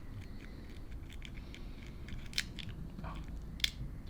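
A broken, hardened rubber carburetor diaphragm from a 1970 Fox Condor mini bike crunches and crackles in a few faint, brittle clicks close by, over a low background hiss.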